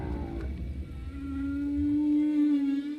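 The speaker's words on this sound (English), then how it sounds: "The songs are so loud, they can be felt through the boat's hull." A long, rising humpback whale song call moans and then holds a steady tonal note, clear and resonant over a low underwater rumble.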